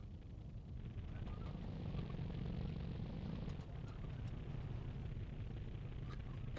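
A tank engine idles at 200 RPM in the Sprocket video game, a low continuous rumbling drone with a steady throb, moderately loud and unbroken.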